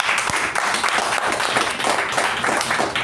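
A room of members and guests at a Toastmasters evening meeting breaks into steady, sustained applause, dense clapping that holds at an even level from start to finish.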